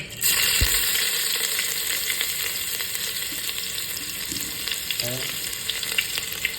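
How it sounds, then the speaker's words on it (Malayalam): Mustard seeds crackle and spit in hot oil under a steady, close sizzle, with a few sharper pops standing out, for a tomato curry. "കടുക് പൊട്ടുണ്ട്"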